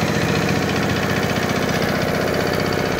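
A Giriraj nano tractor power tiller engine runs at a steady idle with a loud, continuous, rough rumble and a rapid knocking pulse. It is close by and heard alone.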